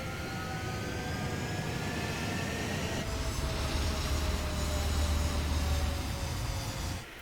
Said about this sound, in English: Mage 2, clear for takeoff.